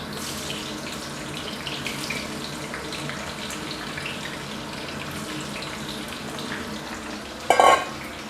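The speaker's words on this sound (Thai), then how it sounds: "ตอนนี้เรามาทอดกันเลยนะครับ" Eggplant fries in moderately hot oil in a Thai kitchen, giving a continuous soft sizzle and crackle at steady low level, ending in a short louder clatter near the end.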